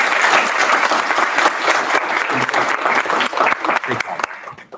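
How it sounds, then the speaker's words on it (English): An audience at a physics intern symposium gives a speaker loud, dense applause that fills several seconds, with voices talking over it before it thins out at the end. "Round of applause for our speaker."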